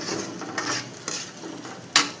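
Fresh dark blood poured into a frying pan and stirred while cooking for a blood fry dish, giving soft scraping stir strokes over a low sizzle, with a sharper metallic clink near the end, no talking.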